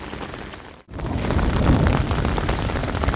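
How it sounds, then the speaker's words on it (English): Heavy rain pours steadily on a tent at a campsite during a thunderstorm, with a deep rumble of thunder swelling after a brief near-silent break and holding loud and close. "Hear the thunder?"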